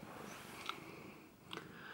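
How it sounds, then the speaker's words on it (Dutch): A large, frightened female rescue cat purrs softly and steadily, a low continuous rumble close by with a couple of faint rustles and no talking. "Dit is de grote kat waar ik het over had."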